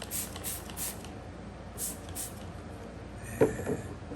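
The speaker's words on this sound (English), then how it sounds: "Got a spray gun full of water here." Several quick hissing spritzes from a spray bottle of water, wetting a paper towel, in short bursts, then a brief knock, over quiet room background.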